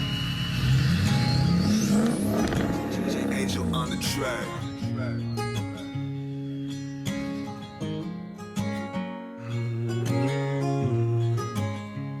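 A Ford F350 pickup truck engine revs and climbs in pitch, then settles into a throaty rumble with repeated throttle bursts, mixed with music-like tonal layers.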